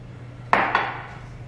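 Scone dough being mixed in a bowl gives two quick clinks of a utensil against the bowl in close succession over a faint, steady background hum.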